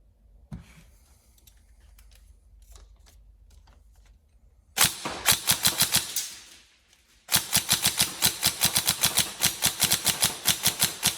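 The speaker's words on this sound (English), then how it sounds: "Okay, so we'll get some rounds down range." Tokyo Marui 416 Delta NGRS airsoft electric gun firing, a few faint single clicks followed by a loud rapid burst, a short pause, then a longer rhythmic full-auto stream of sharp mechanical cracks close by.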